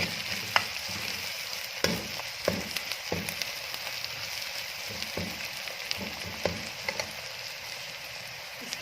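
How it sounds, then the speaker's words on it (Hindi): Steady sizzling of garlic ginger paste frying in a hot pan, with occasional stirring scrapes and small crackles, close and continuous. "इनको अच्छी तरह से इसको मिक्स करके चंद सेकंड के लिए फ्राई करेंगे"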